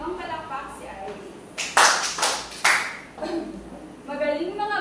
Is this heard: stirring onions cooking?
no